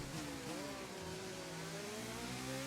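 A Ferrari race car engine in the F1 22 video game passes with a high, rising and falling whine and a steady roar.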